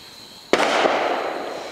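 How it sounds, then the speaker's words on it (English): Fireworks exploding in the sky: a single sharp boom after a quiet moment, followed by a long rumbling, crackling tail that slowly fades. "Watch the sky because the fireworks are starting."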